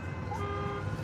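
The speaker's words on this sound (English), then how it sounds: "Other drivers honking because the road's blocked." A car horn honks amid a blocked road at a night accident scene, a short tonal blare layered over steady traffic rumble, moderately distant.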